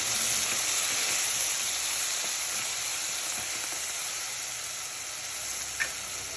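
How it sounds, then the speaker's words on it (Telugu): Goat leg pieces frying in a pan with turmeric and salt, giving a steady, hissing sizzle that stays close and even, with one small clink near the end and no voices. "ఒక 1/2 స్పూన్ పసుపు, ఒక 1/2 స్పూన్ సాల్ట్ వేసుకొని బాగా వేయించేద్దాము."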